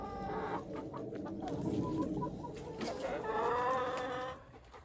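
Older hens clucking steadily around a farmyard, several birds overlapping in a busy, continuous chatter that fades out near the end, with no talking.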